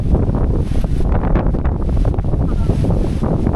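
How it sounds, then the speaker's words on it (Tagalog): Strong wind roars and buffets close by at a campsite on Apo Reef, a loud continuous rumble with gusty swells and no voices. "Sobrang lakas ng hangin!"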